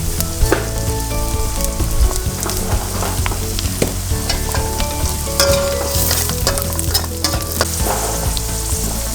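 Fish pickle frying in a pan as salt goes in, a loud close sizzle with crackles and sharp pops and occasional utensil scrapes, steady throughout with no voices.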